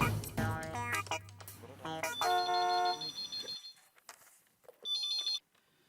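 An electronic phone ringtone plays a melodic tune, stops, then briefly sounds again after a short pause.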